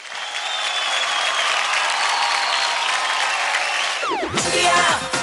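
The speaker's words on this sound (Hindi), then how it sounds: "एक बार फिर से इन सब के लिए जोरदार तालियां।" Loud studio audience applause and cheering for dancers on a televised dance competition show, sustained and dense, then broken near the end by a sweeping musical sting.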